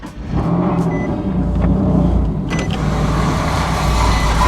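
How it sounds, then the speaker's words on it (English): A car with a serious fault, running on high boost, is started and settles into a loud, steady engine rumble after a brief initial burst, with no one talking. "let's go ahead and start this car"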